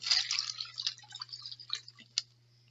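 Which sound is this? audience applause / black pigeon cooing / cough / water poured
water poured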